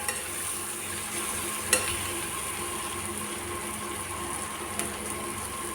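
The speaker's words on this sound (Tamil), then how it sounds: "உப்பு நல்லா வதக்கிக்கலாம்" Green eggplant with salt sautés in a pan with a steady, soft sizzle and frying hiss, broken by a couple of faint clicks of stirring.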